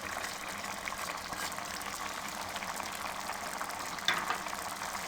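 Mutton with ginger paste and spices fries in a karahi, giving a steady, dense sizzle that runs evenly throughout, with a brief sharper crackle or stir near the end.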